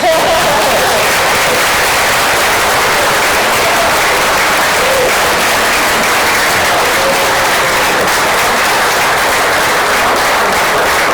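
A large audience applauds steadily at an association's 30th anniversary gathering, dense clapping filling the room without pause for about eleven seconds.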